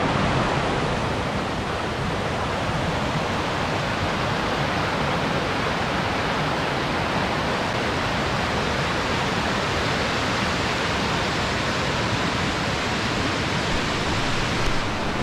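Aira Force waterfall in the Lake District roars with water rushing down from every side, a loud, dense, unbroken wash of falling water that stays steady and close throughout.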